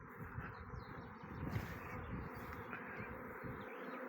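A dense, continuous buzzing hum of a honey bee swarm nearby, steady throughout, with faint bird chirps in the background.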